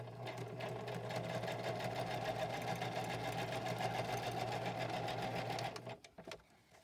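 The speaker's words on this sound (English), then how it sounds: "I'm just going to turn it around and sew again" A sewing machine stitches paper and fabric for a handmade notebook craft, running steadily and close for about six seconds before stopping, followed by a few faint handling clicks.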